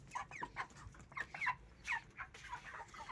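Broiler chickens on a poultry farm cluck in short, repeated bursts close by, several birds calling over a low background hum.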